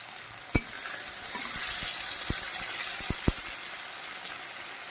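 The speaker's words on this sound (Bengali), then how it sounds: "তো এটা ভাজা হতে থাকুক বন্ধুরা" Greens fry in a kadai with onion, a steady soft sizzle close by, broken by a handful of sharp utensil taps against the pan.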